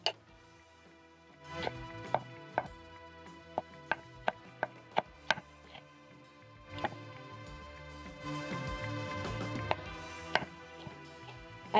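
Knife finely shredding sukuma wiki greens on a chopping board, a run of sharp, evenly spaced chops close by, then a denser flurry of cuts toward the end.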